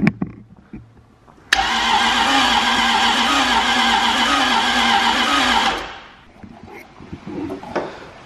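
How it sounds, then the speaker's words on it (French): A Nissan S13 fitted with a Toyota 1UZ V8 cranks loudly and steadily for about four seconds with a pulsing starter whir, then cuts off abruptly, leaving quieter garage sounds. "Essaye d'y mettre des tours de clé pour voir."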